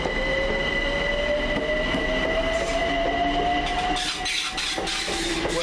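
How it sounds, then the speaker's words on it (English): London Overground Class 378 train, unit 378202, working the Stratford to Richmond service, rolls past loud and close, with a rising wheel-squeal tone and steady rumble throughout, easing slightly near the end. "Working the 1419 London Overground service from Stratford to Richmond."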